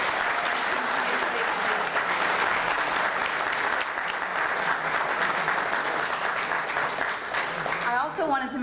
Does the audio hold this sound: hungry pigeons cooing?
no